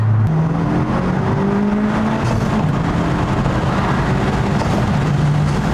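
Loud, close engine of a 2023 or later Honda Civic Type R with an aftermarket intake roaring under first-gear acceleration with the windows down, heavy road and wind noise, the engine tone rising in brief steps.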